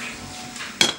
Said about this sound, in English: Put a lid on it if you can find your lid to your pan.